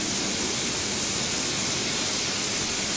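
Steam locomotive safety valves blow off in Train Simulator 2016, a strong, continuous hiss, loud and unbroken from start to finish.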